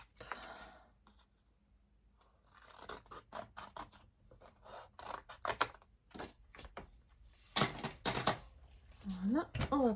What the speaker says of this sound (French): Mes ciseaux. Hop.